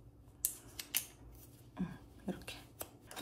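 Kitchen scissors are pulled apart into their two blades after a dishwasher run. A handful of sharp metallic clicks and snips sound close by and quietly against a soft room background, with no talk.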